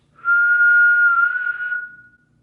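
A person whistles one steady, clear note close by, held for nearly two seconds before it fades, with no other sound around it.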